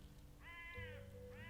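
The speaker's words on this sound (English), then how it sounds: "A couple of noisy crows over there." Two harsh, drawn-out bird calls about a second apart, fairly clear against a low steady hum in the background.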